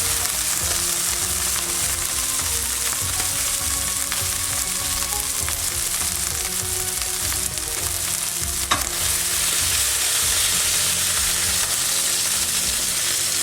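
Lamb sears for a tagine in a hot pan, giving a loud, steady sizzle and frying hiss that carries on without a break, with faint stirring clicks.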